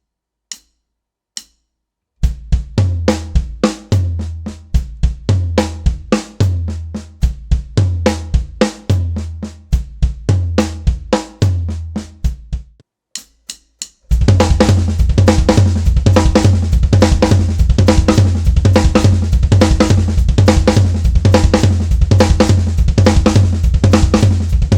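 A snare drum plays a rhythmic sticking pattern with sharp accented strokes, first sparse and spaced, then a dense fast continuous roll-like run.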